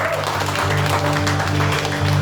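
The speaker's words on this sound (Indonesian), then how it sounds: "Nah, kasih tepuk tangan lagi." Applause from a church congregation, a steady broadband wash of clapping lasting a couple of seconds, with sustained organ or keyboard tones and some voices underneath.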